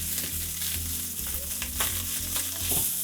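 Day-old rice frying in a hot pan on medium-high heat for chicken fried rice, a steady close sizzle with scraping stir strokes running throughout.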